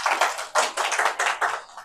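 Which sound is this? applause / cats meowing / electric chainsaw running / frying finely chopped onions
applause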